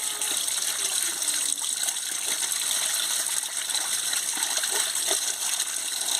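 Cleaned catfish (magur) is rinsed in water, a continuous close gush and splash of running water with faint clinks throughout, no speech.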